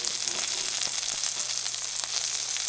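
Fish fries in brown butter in a pan just after being flipped, giving a loud, steady, close sizzle with a few faint clicks and no talking.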